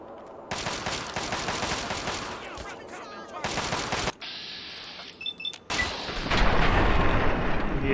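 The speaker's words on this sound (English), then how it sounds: "That's a combat shotgun, folks." A combat shotgun in Fallout 3 fires amid a heavy, chaotic firefight: loud bursts of repeated blasts and echoing gunfire come in several clusters, with brief gaps and a few electronic beeps between them.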